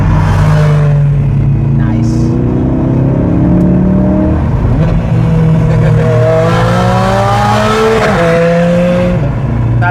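A Red Bull Racing car engine revs loud and close, pitch climbing and dropping through several sweeps, with tires squealing briefly.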